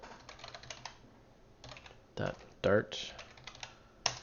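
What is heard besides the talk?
typing on a computer keyboard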